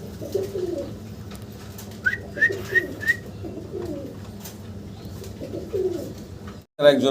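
Lotan pigeons coo in soft, throaty repeated phrases at close range, with a brief higher whistling call in the middle and a faint murmur of voices nearby.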